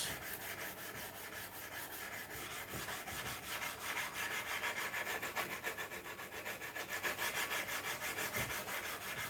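A hand sanding block rubs rhythmically against a workpiece, producing quick, even strokes of gritty scratching that repeat steadily and close up, with no voices.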